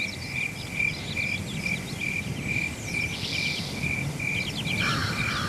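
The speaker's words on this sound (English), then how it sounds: "And now we have crickets." Crickets chirp in a regular, evenly pulsed loop, with faint bird-like chirps over a dense, steady night background.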